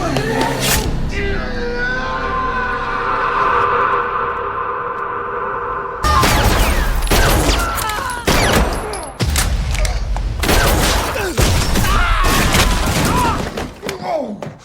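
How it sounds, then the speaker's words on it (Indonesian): In an action film scene, a burst of rapid gunfire and sharp bangs crashes in after a sustained tonal swell, with shots and thuds continuing loudly in irregular volleys. "Meskipun tembakan Rory meleset dan justru mengenai Kit, suaminya sendiri"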